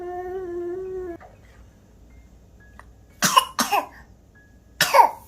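A young child coughs while drooling: a steady voiced tone fades, then after a quiet stretch come a few close, harsh wet coughs in quick succession, then another cough a moment later.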